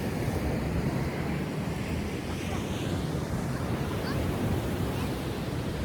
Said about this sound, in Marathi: आणि इतकं छान पाण्याचा आवाज येतोय